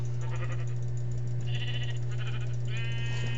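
Sheep in Minecraft bleat several times, short wavering calls over a steady, loud low hum.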